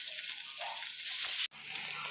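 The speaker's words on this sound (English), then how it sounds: "I got my wok is nice and hot. So we're gonna go ahead and throw our meat in there." Diced beef sizzles and fries loudly in a hot wok, a steady bright crackle that swells as the meat hits the pan, breaks off for an instant, then resumes.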